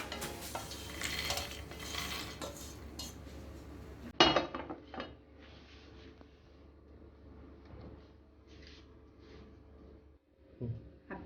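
Golden-brown roasted makhana (fox nuts) scraped and spooned from a pan onto a plate, a sharp clink of spoon on metal followed by soft scattered clatters and light scraping, with a faint background hum.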